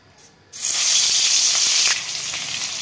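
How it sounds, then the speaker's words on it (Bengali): Hot oil poured into a heated wok sizzles abruptly into a loud, steady, close hiss that eases slightly toward the end, with no talking over it. "কড়াই গরম হয়ে গেছে, তেল দিয়ে দিলাম।"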